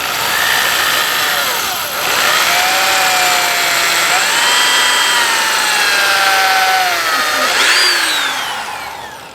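A power drill whirs loudly and continuously for several seconds while pre-drilling screw holes in a box, its motor pitch rising and dipping as the load changes.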